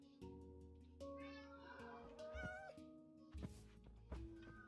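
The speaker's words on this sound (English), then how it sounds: "Here is an ocelot." Ocelot meowing in the Minecraft video game, a few short tonal cat calls repeated over a quiet layered background with faint thumps, fairly close and moderately loud.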